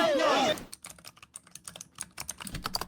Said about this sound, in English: The keyboard's so loud.